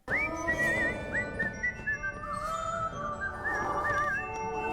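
A cartoon character in Adventure Time whistles a wavering melodic tune, several bright sliding notes in a row, heard continuously over a busy background of music and show sounds.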